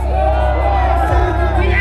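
A crowd at an evening rally in the Philippines cheers and shouts together, loud and close, with a mass of overlapping voices over a low rumbling hum.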